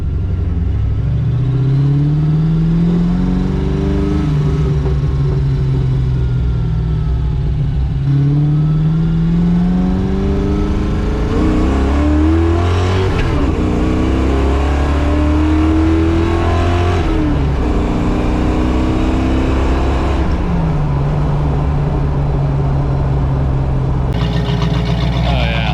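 Ford Mustang Foxbody with a custom exhaust and mufflers revs loudly and repeatedly, its engine note climbing and falling in long sweeps, close and dominant throughout.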